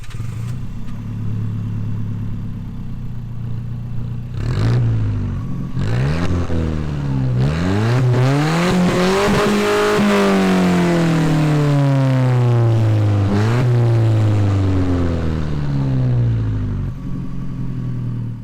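An Alfa Romeo 4C's small 1.7-litre inline-four engine idles, then revs up in rising and falling sweeps, loud and close, before settling back to a steady hum.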